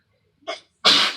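A single close, loud sneeze with a short sharp inhale just before it, alone without talk.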